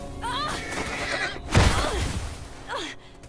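A horse in The Last of Us Remastered whinnies in several shrill neighs, with a few hoof clops and a heavy thump midway, fairly close and clear.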